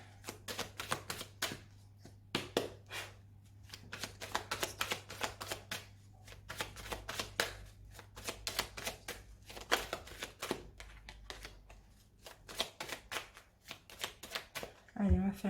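A deck of oracle cards (the Oracle des Miroirs) being shuffled by hand, a close, steady stream of rapid flicking and riffling that runs almost the whole time with brief pauses, then a voice at the very end.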